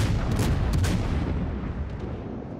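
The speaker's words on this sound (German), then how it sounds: "Er schießt immer noch mit HE." A warship fires high-explosive shells in World of Warships, a few deep booming shots in quick succession at the start, then a rolling rumble that gradually fades.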